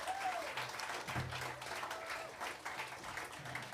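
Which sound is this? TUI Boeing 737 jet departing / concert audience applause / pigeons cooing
concert audience applause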